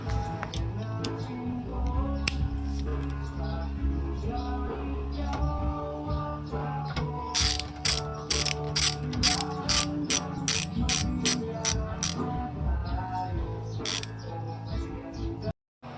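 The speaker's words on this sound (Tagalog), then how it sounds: "gagamit naman tayo ng 8mm na box wrench. Para naman luwagan yung bolt na naglalak sa shafting ng dryer basket." An 8mm box wrench loosens the bolt holding the dryer basket shaft of a twin-tub washing machine, with a run of crisp, evenly spaced clicks heard close up over steady tonal background music.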